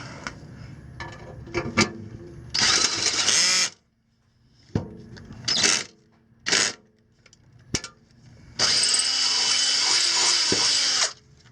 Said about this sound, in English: I'm gonna go drill this one out now.